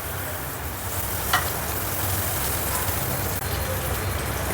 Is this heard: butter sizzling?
yes